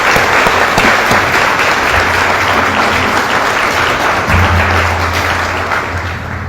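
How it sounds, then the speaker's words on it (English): Loud, sustained applause from an audience at a US Army ceremony, continuous and dense throughout, with no talking over it. "Can we please give them all another round of applause?"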